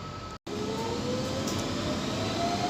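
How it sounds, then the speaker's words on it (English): A London night tube train pulls away from Stratford, a steady, loud rumble with a brief dropout near the start, then a continuous roar building slightly as it gathers speed. "wait for the train to go, depart, we'll get up at Stratford and interchange with the Jubilee line"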